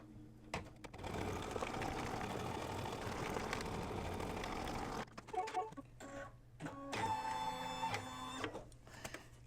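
An embroidery machine stitches down cotton batting in a hoop as a second color stop, a steady mechanical whir of rapid needle strokes that runs, pauses briefly, then resumes with trim and thread-change clicks and a higher tonal hum.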